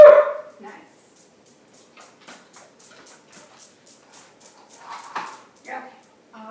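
A dog gives a few short barks on a trainer's spoken command during a lesson, the yips spaced across the clip, with people speaking around them.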